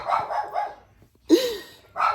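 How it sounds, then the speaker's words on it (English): A female dog barks at home, first a quick run of three yips, then a single sharp, loud bark after a pause and another starting at the end, close by and without talk. "Why is she barking like that?"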